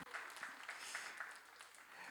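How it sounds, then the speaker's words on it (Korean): A small church youth group claps during a worship service, a quiet, fairly brief burst of scattered hand claps with a few distinct strikes, faint and close, fading toward the end. "우리 진호 박수."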